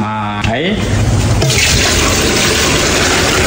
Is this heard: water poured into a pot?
yes